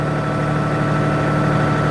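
A diesel tractor engine with one hour of use idles steadily at 1400 RPM during a manual regeneration, producing a continuous, close, loud low drone with a constant hum and no voices.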